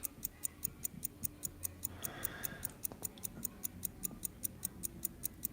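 Rapid, even ticking of a mechanical watch with a moving balance wheel, quiet and close, with a faint rustle partway through.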